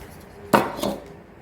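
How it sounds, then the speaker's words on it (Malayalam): A knife slicing through jackfruit pieces on a board for chips, heard as one crisp chop followed by a softer cut, then quiet. "അതുപോലെ ഇതെല്ലാം നമുക്ക് അരിഞ്ഞെടുക്കാം."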